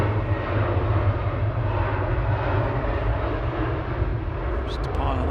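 A Jet2 airliner at Manchester Airport, its engines giving a loud, steady low roar that holds throughout, with a person's voice under the noise.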